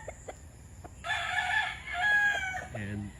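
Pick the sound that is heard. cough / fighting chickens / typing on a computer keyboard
fighting chickens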